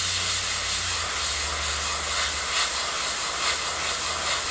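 Continuous airy hissing of an airbrush spraying paint onto a fishing lure at about 15 pounds of pressure, steady and fairly loud throughout, with a low hum underneath.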